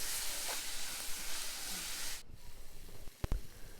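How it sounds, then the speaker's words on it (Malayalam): Onions with salt and turmeric sizzling in a pan, a steady hiss that drops away after about two seconds, followed by a few sharp clinks and scrapes of stirring. "ഉള്ളിയുടെ കളർ മാറുന്നവരേക്ക് നന്നായിട്ട് ഇളക്കി കൊടുക്കുക"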